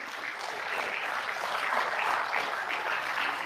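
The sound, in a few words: audience applause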